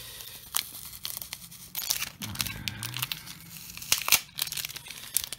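Crinkly plastic foil of a Pokémon Dark Flames duo booster pack with tape on it being torn open by hand, close and crisp, in bursts of tearing and crumpling with no talk.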